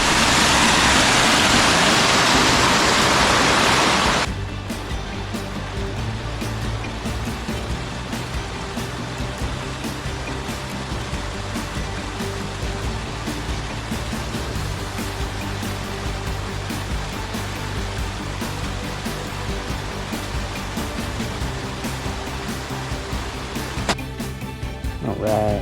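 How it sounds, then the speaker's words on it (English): Mott Creek in Mott Canyon in the Sierra, running high and strong, gives a steady, full rushing roar close by, with a louder burst of wind or handling at the start. "Here's Mott Creek. Flowing exceptionally well."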